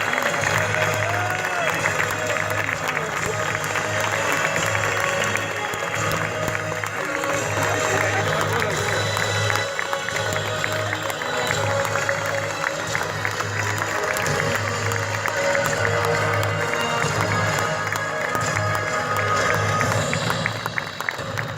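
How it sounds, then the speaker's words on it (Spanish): A theater audience gives the actors a loud, sustained round of applause: dense clapping mixed with crowd noise that stays steady for the full length without letting up. "Fuerte y sostenido aplauso para los actores"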